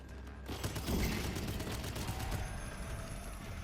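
Several automated turrets fire at deep-sea creatures in the video game Abyss, a rapid continuous barrage of gunfire with a dense rattling texture, loud and sustained for several seconds, with no talking.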